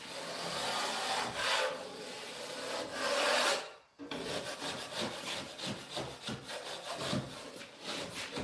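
Drywall knife scraping crusty dried joint compound off a taped seam, rasping strokes in a fast rhythm, close and clear, with a short pause midway before the scraping resumes.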